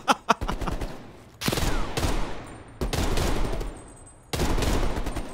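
Gunfire in the Call of Duty: Cold War campaign: a couple of sharp single shots, then three long, loud bursts of sustained automatic fire separated by short pauses, with no talking.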